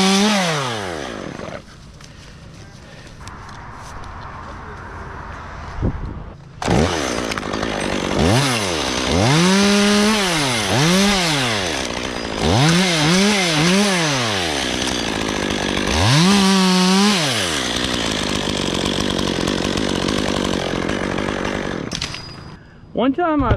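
A chainsaw cuts a limb from a dead oak tree, its engine revving up and down in repeated surges as the bar bites in, loud and close with idling between cuts and some talk at times.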